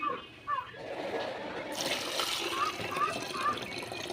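Water runs and splashes faintly while rice is washed by hand, with soft trickling and sloshing. Quiet voices sound in the background.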